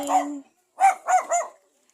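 A dog gives a few quick, short barks close by, several sharp yips in a row after a brief pause.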